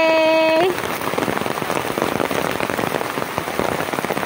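Rain falling on rocks and a phone outdoors, a dense pattering of close drops right after a brief high tone cuts off, loud and continuous with no talking.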